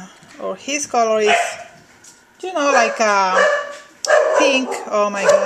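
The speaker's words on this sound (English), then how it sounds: "I'm sorry for my dogs, they are barking" Someone talks while dogs bark nearby in short bursts, the yapping overlapping her voice at moderate loudness.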